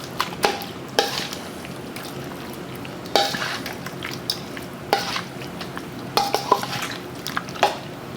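A spoon scrapes and knocks against a bowl while rich, creamy potato salad soaked with vinegar and onion is stirred, giving irregular clinks and soft wet mixing sounds up close.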